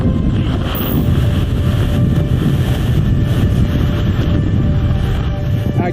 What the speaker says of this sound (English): These winds gusting over hurricane force since mid-morning.